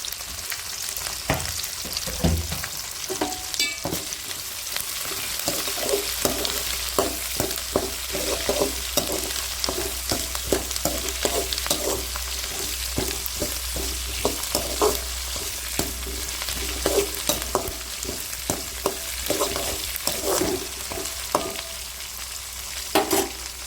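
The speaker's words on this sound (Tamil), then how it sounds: "வெங்காயம் கொஞ்சம் வதங்கினதுக்கப்புறம் மிளகாய் சேர்த்துக்கலாம். கருவேப்பிலை சேர்த்துக்கலாம்." Onions, green chillies and curry leaves sauté in a pan for Pallipalayam chicken, a steady close sizzle broken by frequent rhythmic scrapes and taps of a spoon stirring throughout, with no voices.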